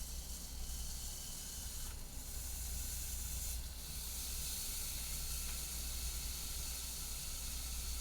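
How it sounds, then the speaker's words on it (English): A burger patty sizzles on a Dash mini grill without oil or spray, a steady faint hiss that runs unbroken throughout with no talk. "Listen to that sizzle."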